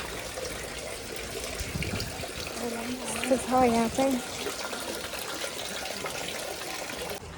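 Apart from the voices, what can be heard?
water running from a spout at a temple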